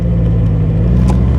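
A manual-transmission car's engine hums loudly and steadily at close range, a low droning rumble as the gas is pressed, without talk.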